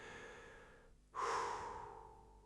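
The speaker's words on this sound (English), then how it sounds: "I take a deep breath." A single deep breath close by, a soft airy intake followed by a louder sighing exhale that fades slowly, in a quiet room.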